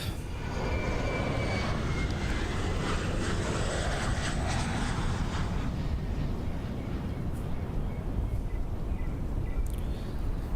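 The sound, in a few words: FlyingIron P-38L Lightning engines in Microsoft Flight Simulator 2024 video game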